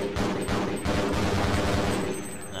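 Rapid gunfire bursts from the first-person shooter video game Half-Life, a dense rattle of shots repeating over under three seconds at moderate level with no talking.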